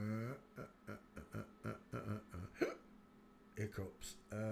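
A run of short, rhythmic voiced hiccup-like gulps, about a dozen close together in sequence, mixed with vocal sounds that may be a person imitating hiccups.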